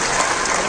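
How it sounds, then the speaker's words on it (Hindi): Dense applause from a crowd at a political rally in India, a steady, loud wash of clapping that fills the brief moment without any voices above it. "जोरदार तालियां कर्नल प्रतीक के लिए"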